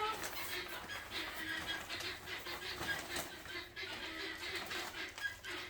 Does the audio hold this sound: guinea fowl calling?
yes